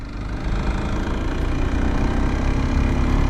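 Kawasaki Z125 motorcycle engine, 2019 model, held at full throttle at low revs, a steady loud drone without much rise in pitch.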